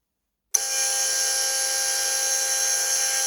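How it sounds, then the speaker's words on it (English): A high-pitched drill starts abruptly, drilling pilot holes, and runs steadily at a constant whine, close and loud, with no pauses. "we are just drilling pilot holes with this"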